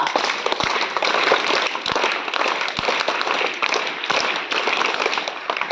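Audience clapping at a Teachers' Day event, a dense, steady burst of many hands applauding together without pause, with no voices over it.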